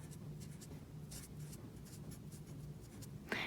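A pen writes a name on paper, giving soft, close scratchy strokes in short irregular bursts over a quiet background hum, with a slightly louder tap near the end.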